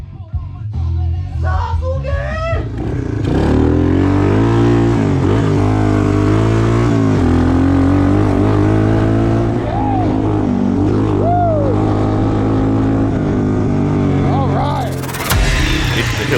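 A 1986 Suzuki Quadrunner LT250EF ATV engine runs loud and close with a steady drone and a few revving swells throughout, with voices talking over it.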